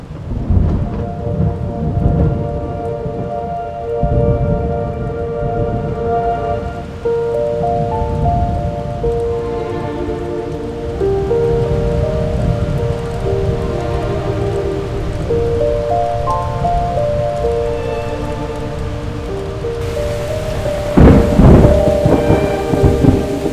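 Heavy rain and a thunderstorm at a Cebu street food stall, steady loud downpour with rolling thunder and a sharp crack near the end, over clattering sounds from the stall.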